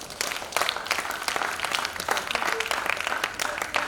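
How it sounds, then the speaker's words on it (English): Audience at a panel session on online safety clapping for teachers, a scattered, moderately loud round of applause that holds steady across the moment with a few faint voices mixed in. "can we clap for our teachers?"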